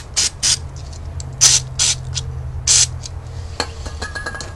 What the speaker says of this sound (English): Let's put a carb cleaner in there.